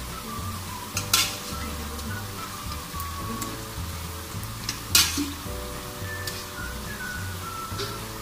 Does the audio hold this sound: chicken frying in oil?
yes